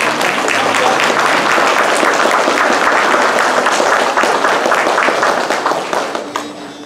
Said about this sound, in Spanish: se merece un aplauso de todos nosotros